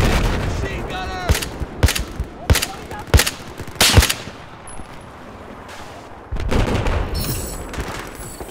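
Machine gun fire in Battlefield 4 on the Hainan Resort map: five sharp, spaced shots crack out in the first four seconds, followed by a lull and then a rougher burst of distant combat noise.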